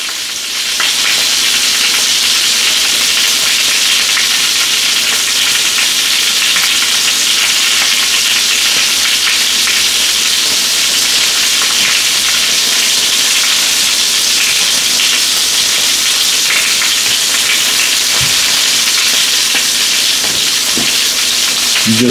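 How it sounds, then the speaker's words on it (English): Salisbury steak patties sear in a hot pan with a steady, loud broadband sizzle and hiss that runs unbroken throughout, with no talking. "You just want to get a nice little sear on both sides."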